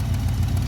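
A truck engine with a leaking smog exhaust manifold idles close by, a loud steady low rumble with a fast pulsing throb and no talk.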